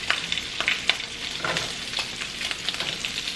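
Turkey bacon and chopped vegetables fry in a hot pan for fried rice, a steady close sizzle with scattered crackles and pops and occasional stirring scrapes, no voices.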